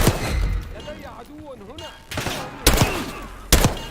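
Gunfire bursts from the Call of Duty Black Ops 6 campaign, with two sharp, loud shots standing out late after softer ambience and a rising, warbling tone.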